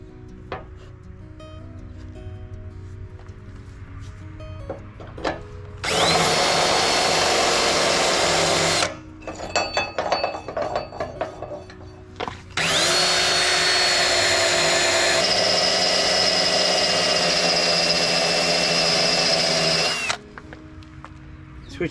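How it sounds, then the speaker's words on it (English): A cordless power drill whirs loudly in two long sustained runs, drilling holes for a trailer hitch, separated by a short pause with some clattering handling noise. "I just want that in place so I know where to drill the next hole."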